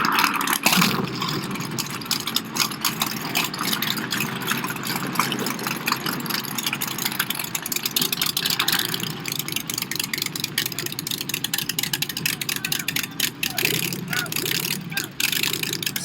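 A Smart Car converted to a race car and fitted with a Big Block Chevy engine, running with a steady, loud, continuous mechanical rumble for the full stretch, with a few brief sharper bursts near the end.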